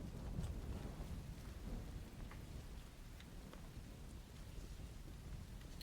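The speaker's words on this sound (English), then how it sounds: "It was like it's raining in the game." Steady rain in the video game Subnautica patters softly, with low rolling rumbles of thunder underneath, all fairly faint and continuous.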